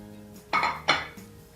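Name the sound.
seasoned shrimp flipped from a plate onto a hot saucepan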